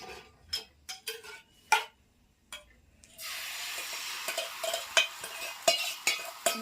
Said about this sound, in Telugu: ఆయిల్ వేసి ఇప్పుడు మళ్ళా ఆమ్లెట్ వేస్తున్నా